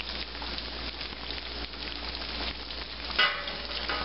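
Battered chicken fried steak frying in oil heated to about 350 degrees, a steady close sizzle and crackle of bubbling grease with a brief louder pop near the end.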